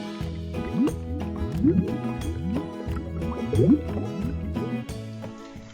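Lukewarm water pours and drips into a container for dyeing yarn, making a close, steady liquid trickle with gurgling and rising filling tones throughout.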